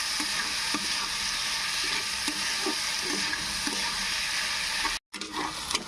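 Chopped onions and tomatoes sautéing in a pan for spinach egg curry, a steady close sizzle with soft scraping stirs, cut by a brief drop to silence near the end.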